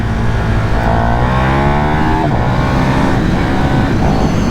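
KTM 1290 Super Duke R motorcycle engine accelerating hard on a city street: a loud, close rising roar with pitch climbing through the revs, a brief shift, then pulling up again, continuous and alone.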